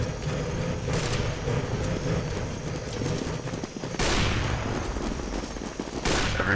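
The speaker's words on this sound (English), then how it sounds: "Every plank you see, make sure to shoot it." Rapid automatic gunfire in the CS:GO Zombie Escape mod on a Jurassic Park map, shooting planks in steady bursts that carry on for several seconds, with sharper loud volleys standing out near the middle and end.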